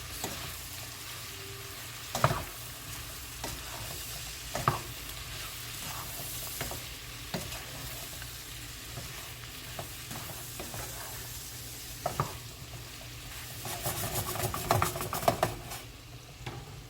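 Garlic, onion and granulated sugar stirred and sizzling in a pan, a steady frying hiss with occasional sharp utensil scrapes and clinks, the hiss swelling near the end.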